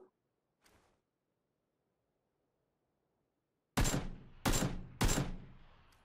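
Gunfire in PlayerUnknown's Battlegrounds: one faint distant crack early on, then after a silence three loud, sharp shots in quick succession, each with a short echoing tail.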